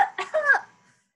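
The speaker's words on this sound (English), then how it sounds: "You've a bad cough." A brief bout of coughing from a stage comedy scene, with two or three short, rough bursts close up, then silence.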